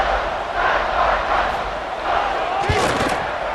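A stadium crowd roars in EA Sports College Football 26 during a UConn Huskies game at Coastal Carolina, a steady loud wash of cheering with a thud partway through.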